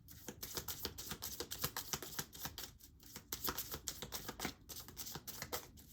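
Rapid, crisp riffling of tarot cards being shuffled, repeated in quick bursts of flicks and taps, close by and fairly quiet with no voices.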